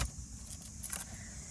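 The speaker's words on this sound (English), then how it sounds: "Then you want to get your key and put it here in the ignition." Car keys jangle near the driver's seat of a manual car as a key is put into the ignition: a short, bright metallic rattle, close and fairly quiet, with no talk.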